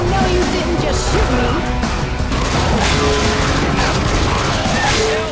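Gunfire bursts from the zombie shooter game Left 4 Dead 2 crack through a dense, loud mix of game noise, with a voice talking over the action.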